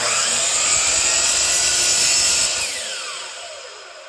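A power saw blade cuts through a wood piece for segmented woodturning, a loud, close, high-pitched whine that holds steady and then winds down as the blade slows after the cut.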